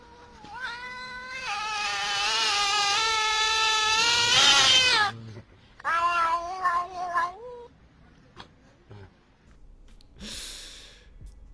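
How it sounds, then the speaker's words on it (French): A sped-up recording of a cat's meows plays as long, warbling, high-pitched cries in several bursts, loud and close, with short pauses between calls. "Je veux pas savoir ce qu'il a fait à son chat pour qu'il fasse ce bruit-là"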